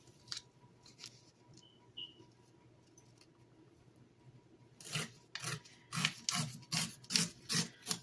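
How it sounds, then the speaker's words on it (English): Excess paper being torn off the top and bottom of junk mail for a junk journal pocket, quiet at first with faint rustles, then a rapid run of loud, close ripping and tearing strokes. "I'm tearing off a little bit of the excess on the top and bottom"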